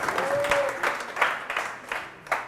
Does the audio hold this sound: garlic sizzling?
no